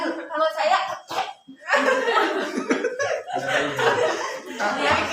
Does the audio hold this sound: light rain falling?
no